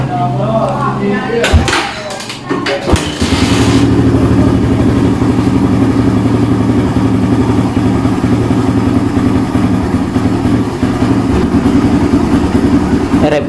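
A Suzuki Rider 150 motorcycle engine, freshly serviced with new oil, kick-starts after a few clunks and settles into a steady, loud idle that runs continuously, with someone talking over it at the start.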